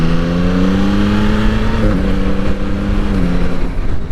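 A Yamaha MT-09 SP motorcycle accelerates hard and close, its engine note climbing steadily with quick, clean quick-shifter upshifts that briefly dip the pitch before it pulls on, loud and continuous.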